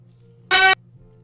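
A single short, bright brass stab ripped from a SNES game, with rich overtones, sounds for a quarter second over a faint low hum, then fades back to the background drone.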